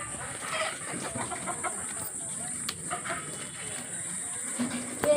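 Chickens cluck and murmur inside a henhouse, a steady low clutter of fowl calls with a faint rooster-like note, fairly close, with a constant high hiss in the background and no clear talk.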